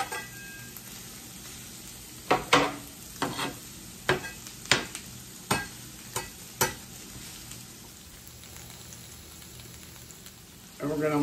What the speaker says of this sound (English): We're going to fry up our onions.